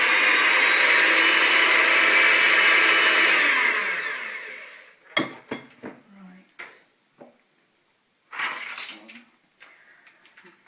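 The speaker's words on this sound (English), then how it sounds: "I'm using an electric mixer to mix this up." An electric mixer beats all-in-one cupcake batter in a bowl, a steady loud whir for about four seconds that winds down and stops, followed by scattered clinks and knocks of the bowl and utensils.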